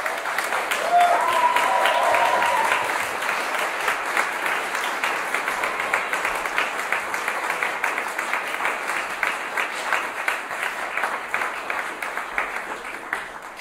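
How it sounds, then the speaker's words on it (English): A concert hall audience at a mixed ensembles music competition final applauds four competing groups with steady, dense clapping. The applause holds strong throughout and thins slightly toward the end, with no voices over it. "let's offer them all another round of applause for that"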